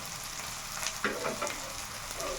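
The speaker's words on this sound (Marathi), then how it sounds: "मिरचे मिरचे वगैरे फ्राय होऊ द्यायचे चांगले याच्यामध्ये टर्मरिक पावडर आणि सॉल्ट ॲड करते" Chilies frying in a pan with turmeric powder and salt, a soft steady sizzle with a few brief clicks of stirring, fairly quiet and close.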